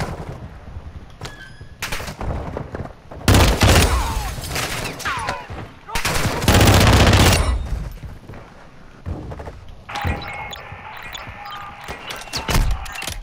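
Call of Duty combat: heavy bursts of automatic gunfire and booming impacts come in loud waves, with thuds and quieter gaps between volleys, plus radio-like game voices and electronic tones near the end.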